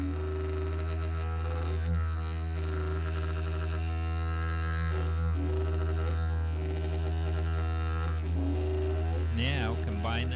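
A didgeridoo drone with a steady low hum, with a rising voiced tone sung into the horn sweeping upward over it, sustained and fairly close, with no talk.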